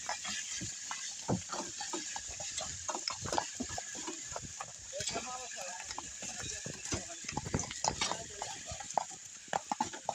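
A colt pulling a wagon walks slowly downhill on a Sunday outing, its hooves clip-clopping in an uneven, steady rhythm close by over a continuous background hiss.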